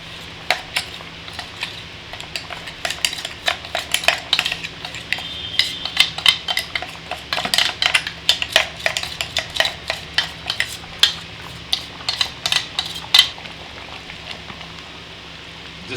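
A spoon stirs and scrapes through chicken curry in a metal pan, making irregular clinks and taps over a soft, steady sizzle, close and alone.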